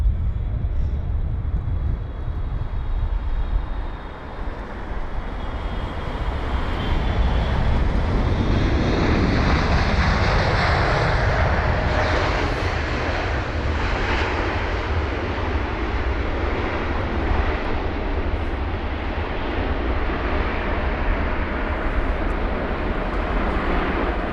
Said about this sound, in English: there's the Kuwait Airways jet from Kuwait City, a 6 hour and 49 minute long journey on board the 777-300ER